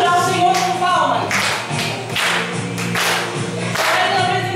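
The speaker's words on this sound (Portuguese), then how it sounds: "Vamos adorar o Senhor com palmas." A worshipping congregation claps hands together in a steady rhythmic beat during church praise, loud and close, with voices and music over the claps.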